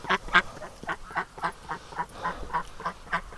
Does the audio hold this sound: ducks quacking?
yes